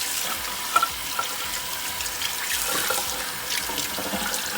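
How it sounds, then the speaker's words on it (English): Cold tap water running over pork tenderloin in a kitchen sink, a steady, moderate rushing stream with a few small splashes and uneven spatter as the meat is rinsed. "We're going to rinse it off with some cold water."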